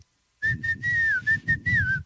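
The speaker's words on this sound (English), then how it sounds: "I whistle by sucking in" A person whistles by sucking air in, a short series of clear, high inhaled notes, some held and gliding downward, close and alone after a brief silence.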